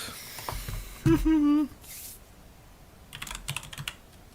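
Someone types on a computer keyboard during a live stream, heard as scattered soft clicks and a short run of quicker keystrokes near the end, alongside a brief tonal hum.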